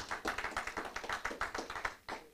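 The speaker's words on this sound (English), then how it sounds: "Come on, give God a good clap." A church congregation claps in unison, a quick, even rhythm of sharp claps close by that carries on briskly for a couple of seconds.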